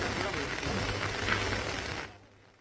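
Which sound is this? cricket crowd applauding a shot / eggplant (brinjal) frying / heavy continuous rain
heavy continuous rain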